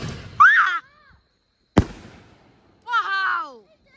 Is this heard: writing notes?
no